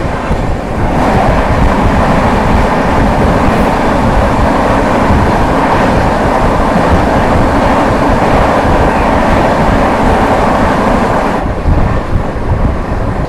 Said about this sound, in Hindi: सामने से आ रही है न्यू दिल्ली राजेंद्र नगर पटना तेजस राजधानी एक्सप्रेस